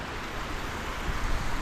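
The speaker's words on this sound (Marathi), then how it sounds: "आपल्याला या नदीच्या किनारा किनारे पुढे जायचं आहे नदीचा आवाज" A river flows along a forested trail near Jategaon, heard as a continuous broadband rush of water that holds steady and swells slightly toward the end, with no voices.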